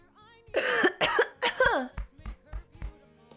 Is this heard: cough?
yes